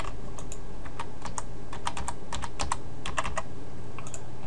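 Password typed on a computer keyboard: quick, close bursts of light key clicks in uneven clusters over a faint steady hum, no voices.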